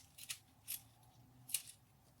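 Scissors snip off the excess ribbon while a two-tone boutique bow is being made, three short crisp cuts close by in a quiet room with no talking.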